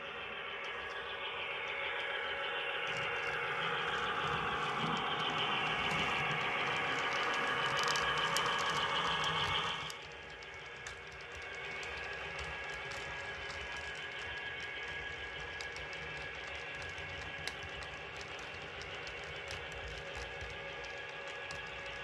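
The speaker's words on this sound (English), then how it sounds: "I'm going to run about 4 trains through here just to test the curve and switches" Model trains roll through a curve and switches on a layout, a steady whirring motor hum with a sharper clatter that drops away halfway through and settles into a quieter running drone.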